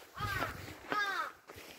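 A crow caws twice, at an even pace, on Palgongsan mountain near the Sutaegol valley trailhead. The harsh calls are fairly faint and sound somewhat distant against quiet outdoor background noise.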